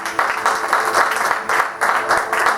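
A church congregation applauds the Lord, loud, dense rhythmic clapping in bursts from many hands filling the room, with a few cheers mixed in.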